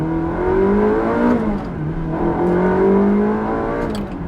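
A mid-engine Italian sports car with a manual gearbox revs hard through short gears, its engine note climbing steadily in pitch, dropping at each shift, then rising again, loud and close with no talk.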